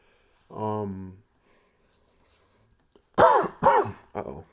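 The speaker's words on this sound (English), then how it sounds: "coughing." A person clears their throat with one drawn-out rasp, then after a pause gives three quick, loud, close coughs in succession.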